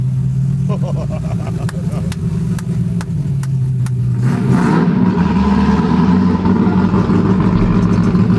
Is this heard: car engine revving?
yes